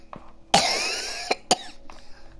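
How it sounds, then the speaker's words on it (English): A sharp, loud cough bursts out close by, followed by two shorter coughs in quick succession and a faint throat noise, in a quiet room of a home gym. "Bit of a cough there"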